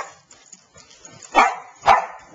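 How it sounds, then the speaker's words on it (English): Two sharp, close barks from an Australian Labradoodle about half a second apart, after a quiet stretch with faint rustling. "Cosmo, no more barking, please."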